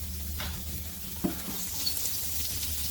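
Steaks cook on a barbecue grill aboard a boat at night under Christmas lights, giving off a constant close hiss of sizzling fat with a couple of faint pops.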